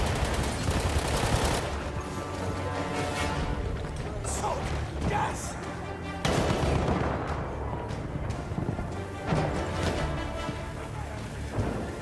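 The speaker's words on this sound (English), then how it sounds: "Coordinates have been sent to our artillery." Heavy booming artillery fire in Battlefield 1, with deep rumbling blasts over continuous battlefield noise and several distinct louder impacts, while soldiers shout under the din.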